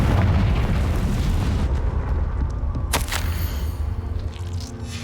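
A Confringo blasting spell detonates in the Hogwarts Legacy video game: a loud, rumbling explosive roar that holds steady, with a sharp crack about midway before it fades into a low rumble.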